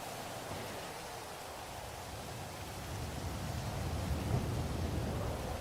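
Steady rain in GTA 5 hisses with a low rumble underneath, growing slightly louder toward the end; no voices.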